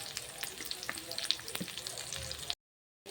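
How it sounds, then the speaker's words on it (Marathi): Onion with chili powder fries in a pan for paneer chilli, a lively crackling sizzle with popping spits and stirring, cut by a short silent gap before resuming. "कांदा पण आपण 2 मिनिट परतून घेऊया।"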